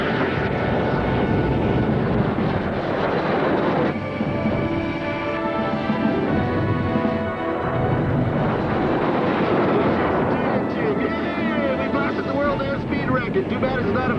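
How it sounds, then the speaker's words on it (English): An Avro Arrow jet lights its afterburner, a loud, continuous roaring rush of engine noise with wind buffeting that fills the whole stretch, rising and shifting in tone, with a voice speaking briefly over it. "Afterburner now."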